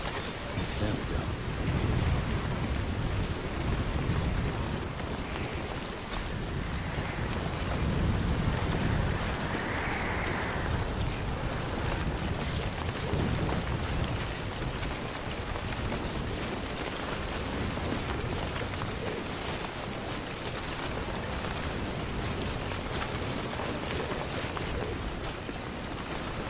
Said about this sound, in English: Man, I guess it could just be raining here.